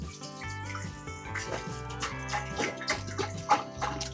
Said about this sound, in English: Get that water in there.